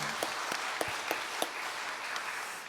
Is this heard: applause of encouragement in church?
yes